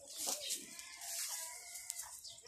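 Young chicks chirping give quick, thin, high-pitched peeps in irregular bursts, faint and somewhat distant against quiet surroundings.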